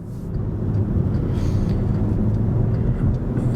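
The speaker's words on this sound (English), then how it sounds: "now we're on the highway. Let's go ahead and be quiet for a moment and drive this booger" Inside a VW Passat cruising on the highway: a steady low road and engine drone with tyre roar, constant and even throughout, no talking.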